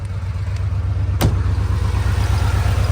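A one-owner 1969 Porsche 911T engine idles steadily with a low, even rumble, close and continuous, with one brief sharp tick partway through.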